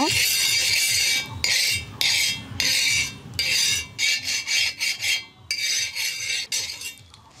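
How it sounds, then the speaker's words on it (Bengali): Oil rubbed across a hot tawa griddle while making a village-style egg roll, heard as a run of rhythmic rasping, scraping strokes, close and fairly loud, each lasting about half a second, with short gaps between them. "এখন আমি দিয়ে দিচ্ছি তেল তেলটা একটু ভালোভাবে তাওয়াটার মধ্যে মাখিয়ে নেব"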